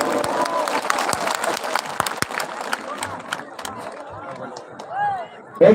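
Crowd clapping at a political rally, a dense burst of applause that thins into scattered claps and cheers, with someone speaking over it.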